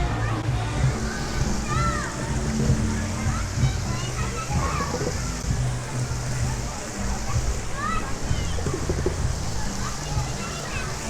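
Busy kids' water park on a Disney cruise island beach, with slides, water dumps, sprays and spouts; continuous rushing, splashing water fills the scene, with children's voices chattering throughout.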